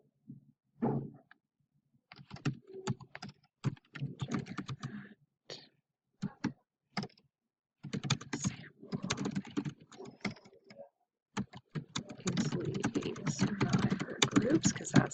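Keys clatter on a computer keyboard as a chart title is typed into Google Sheets. The keystrokes come in close, irregular bursts with short pauses, then settle into steadier continuous typing near the end.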